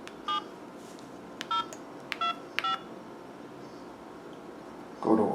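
An LG Exault 2 phone gives four short keypad tones as digits are entered, spaced irregularly over quiet hiss, followed by a brief louder burst of noise at the end.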